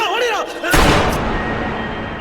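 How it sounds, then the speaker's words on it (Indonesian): A gunshot rings out in an Indian action film, one sharp loud blast that decays into a rumbling tail, following a short burst of speech-like voice. "Madan dirumpuhkan dengan tembakan terukurnya Caesar"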